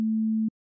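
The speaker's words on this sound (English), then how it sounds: "I'm going to play you some sine waves all the way from 20 Hz up to 20 kHz." Pure sine wave test tone, a single steady low pitch held evenly for about half a second before cutting off abruptly into silence.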